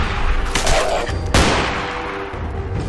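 Rapid gunfire rings out in the Fallout 4 game, a loud burst of overlapping shots with one sharp blast standing out midway, echoing densely with no talking.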